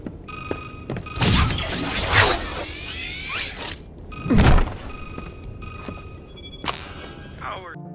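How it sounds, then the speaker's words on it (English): Phone ringing in the action video game Resident Evil 6, a repeating tonal ring heard through loud game action with heavy crashes and whooshes, the ring tones recurring steadily across the scene. "Ada's phone rings"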